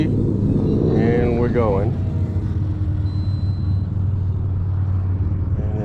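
Mitsubishi Zero 1100mm RC model plane with its motor at low throttle, a steady droning hum heard at a distance beneath a voice.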